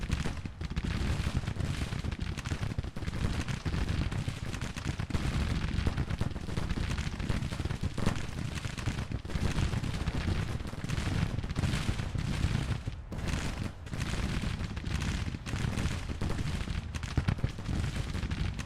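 Civil War battle in Grand Tactician, massed musket fire and artillery crackling and booming nonstop, a dense, rumbling wall of distant gunfire with no pauses.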